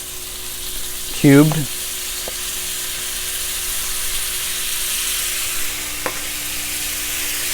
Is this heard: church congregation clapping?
no